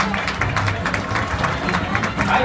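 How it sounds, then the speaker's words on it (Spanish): Crowd applause at a horse fair in Texcoco, a dense steady patter of many hands with crowd murmur and talk mixed in throughout. "Fuerte el aplauso"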